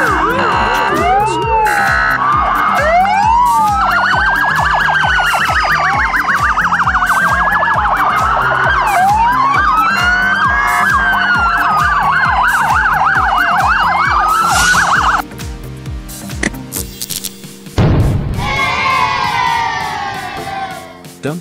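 A loud police car siren wails, rising and falling in a steady repeating cycle, then breaks into a harsher, changing tone near the end.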